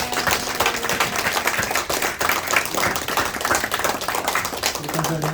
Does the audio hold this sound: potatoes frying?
no